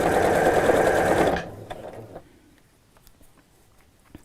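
A sewing machine runs in one fast, continuous burst while stitching a cushion cover tight against the piping cord, then stops abruptly, leaving a few faint clicks and handling noises close by.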